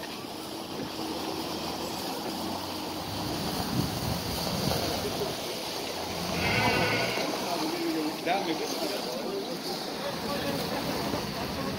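Sheep bleat at a livestock market amid a busy wash of crowd noise and people talking, with a louder bleat rising briefly near the middle.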